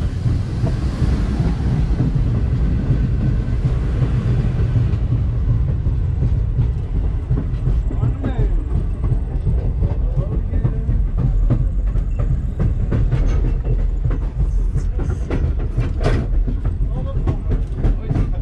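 A train running behind steam locomotive #611 gives a steady, loud rumble with rail clatter and wind buffeting throughout, while people talk over it.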